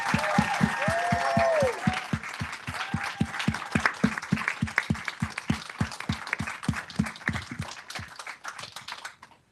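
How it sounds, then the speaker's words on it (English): An audience at the FIELD Fellowship Summit 2024 applauds, starting as a dense burst with a few voices, then thinning into a steady rhythmic group clap that fades out near the end. "give Stella a round of applause"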